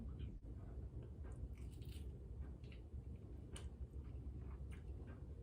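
Someone biting into and chewing a slice of homemade buffalo chicken pizza, faint crunchy and squishy mouth sounds close up over a low background rumble, with no clear speech.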